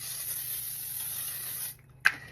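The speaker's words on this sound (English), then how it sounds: "Definitely put this setting spray on before the mascara" Makeup setting spray mists out in a long, steady hiss lasting nearly two seconds, stops, and is followed by one short, sharp click or puff close to the microphone.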